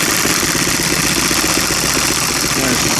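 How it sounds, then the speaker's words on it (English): A miniature hit and miss engine idles low with a steady, dense mechanical chugging, loud and close, and some voice underneath. "There's right down low idle."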